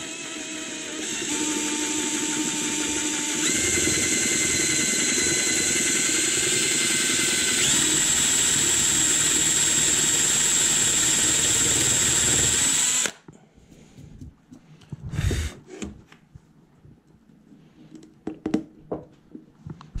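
A power drill whirs loudly and steadily for about thirteen seconds, its pitch stepping up, drilling a hole in a wooden toy combine harvester part, then cuts off, followed by scattered knocks and rustling.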